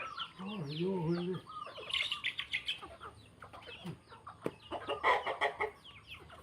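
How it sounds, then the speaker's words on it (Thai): Chickens feeding on rice cluck and chirp nearby in a busy, uneven stream of short calls, with a voice briefly audible at the start. "ไก่นี้ไม่ได้กินตัวปวกนะคะไก่กินข้าว"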